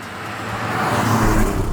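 A muted engine and exhaust hum heard from inside a 2021 Hyundai i20 N Line grows slightly louder over a couple of seconds, with no speech.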